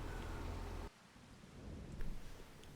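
Rain falls on a farm as a soft, steady wash of noise, faint and distant.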